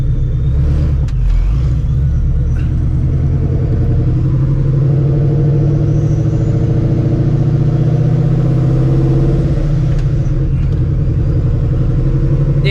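A procharged 2V Mustang GT with a 4.6 engine and open exhaust cutouts rumbles loudly and steadily, a deep, throaty idle that surges slightly midway, heard up close from inside the car.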